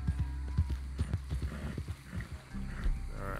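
Horse in Red Dead Redemption 2 moving at a gallop, a quick run of rhythmic hoof thuds with a snorting whinny, fairly quiet over low game ambience.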